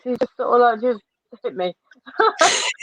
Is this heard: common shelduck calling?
no